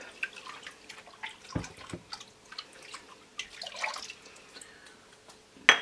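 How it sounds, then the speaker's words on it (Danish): Dish soap poured into a basin of water for washing raw wool, heard as soft liquid trickles and drips with a brief splashy stream, fairly quiet and close, no talking. "Hælder opvaskemiddel i"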